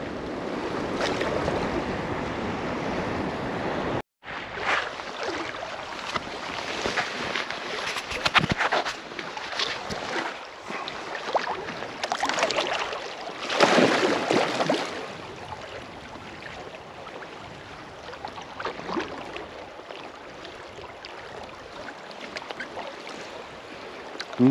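Water rushing steadily along the Ambler River during a float trip just below a small rapid, a continuous broadband flow with surges and splashes close by, briefly cut off near the start, with no talking.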